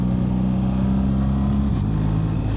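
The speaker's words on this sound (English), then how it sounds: "Need to remember to keep the revs low. It's just his running." A BMW R 1300 GSA motorcycle idles at low revs on a cold day in Switzerland, a steady loud close engine rumble with a slight dip in pitch near the end, no talk.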